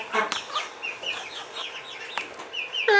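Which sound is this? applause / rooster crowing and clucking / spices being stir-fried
rooster crowing and clucking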